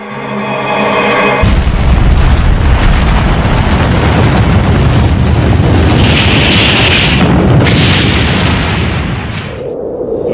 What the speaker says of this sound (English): The first atomic bomb that was dropped here.